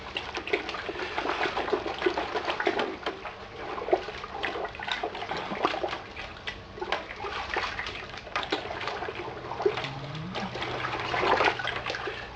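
Malt extract is stirred into water in a homebrew pot, with continuous close sloshing and swirling liquid and occasional clinks and scrapes of the spoon against the pot.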